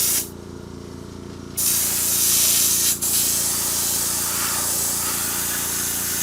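An airbrush sprays paint onto a 3D-printed alligator, a bright steady hiss that starts after a brief pause, runs loud and close with one quick break, then continues evenly to the end.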